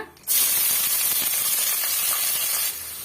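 A loud, steady sizzle of onions, curry leaves and green chilies in hot oil for Chettinad chicken gravy bursts in and crackles evenly for a few seconds.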